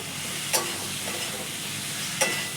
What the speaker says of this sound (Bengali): ভালো করে এটাকে কষিয়ে ভেজে নেব।